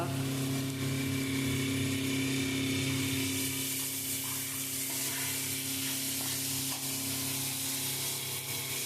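Ginger and garlic paste fries with onions in oil in a pan, producing a continuous moderate sizzle with faint stirring and a low hum underneath.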